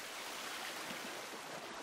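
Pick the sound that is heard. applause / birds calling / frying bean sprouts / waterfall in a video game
waterfall in a video game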